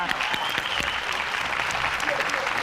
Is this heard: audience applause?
yes